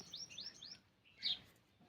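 A few bright sparrow chirps in quick succession, then a pause and one louder chirp, fairly close with a quiet background.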